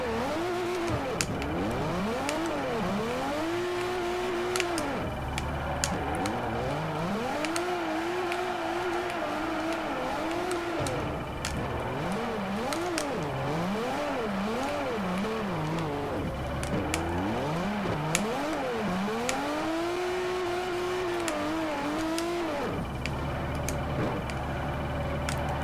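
Nissan S15 drifting in Forza Horizon 4, its engine revving hard and wailing up and down in sweeping arcs as it slides through corners, loud and continuous throughout with no talk.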